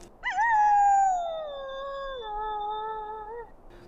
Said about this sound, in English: The wolves are howling here, but they're not attacking unless you attack them.